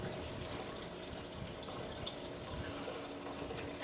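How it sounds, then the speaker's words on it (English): A backyard pool waterfall splashes continuously in the background, a faint steady rush of falling water with no speech. "I hope the waterfall from the pool drowned some of them out."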